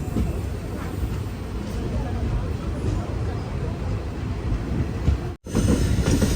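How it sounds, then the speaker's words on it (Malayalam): Madurai–Guruvayur Express climbing a gradient in Kerala, heard from inside a sleeper coach: a steady, loud rumble of wheels and car noise with faint clatter, broken by one brief dropout near the end. "ഇപ്പം ചെറിയ രീതിയിൽ ട്രെയിൻ കയറ്റം കയറുന്നുണ്ട്."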